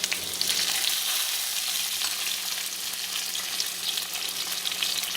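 Onions and tomato fry in oil in a pan with a steady, close crackling sizzle that holds evenly throughout, with no voices over it.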